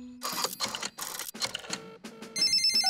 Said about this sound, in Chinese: 这里是狗爷爷的维修服务电话。